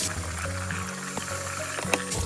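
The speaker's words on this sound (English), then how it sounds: "Give them a little shake, rinse them off. You want to get all that bean juice off of them until the water runs clear." Running tap water poured over canned beans in a strainer, a steady trickling flow with a few soft clinks and splashes, close and fairly quiet.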